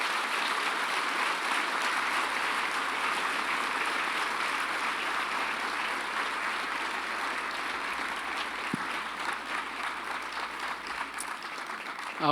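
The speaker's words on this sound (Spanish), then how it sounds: "Puedes darle un aplauso al Señor" A church congregation gives steady, dense applause that runs unbroken for the whole stretch, a broad wash of many hands clapping with no talk over it.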